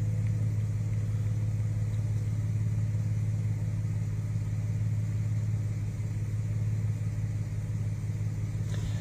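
A car engine is held at a steady 2,000 to 3,000 RPM, producing a constant, even drone at close range for the full length with no change in pitch or loudness.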